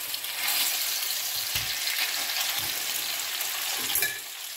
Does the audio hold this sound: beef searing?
yes